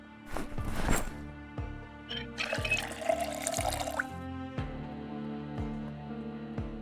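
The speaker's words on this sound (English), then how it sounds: "And we'll fill our water bottle up." Water bottle being filled in the video game Project Zomboid Build 41: splashing, gurgling liquid pours through the middle, with recurring soft clicks and thumps throughout.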